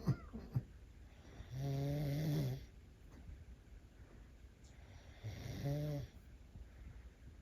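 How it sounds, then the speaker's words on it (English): Loud snoring comes in two long, buzzing inhalations with a quiet gap between them, recorded close up in a calm room. "She was snoring super loud."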